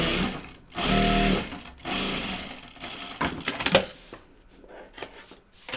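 A sewing machine stitches binding onto a project bag in loud, close bursts of rapid mechanical whirring that stop and start as the fabric is guided around, with small clicks in between.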